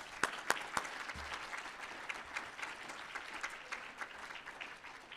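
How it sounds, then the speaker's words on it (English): An audience at an educator-of-the-year banquet gives a round of applause, a fairly quiet, even patter of many hands with a few sharper claps near the start. "So let's take a round of applause for them."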